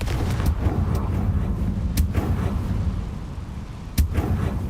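Confringo blasting-spell explosions in the Hogwarts Legacy video game: two heavy booms about two seconds apart, over a dense rumbling backdrop.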